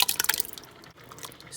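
Water for noodles heating in a pot, with quiet bubbling and dripping that starts as a busy burst of crackles and settles into a soft, steady simmer.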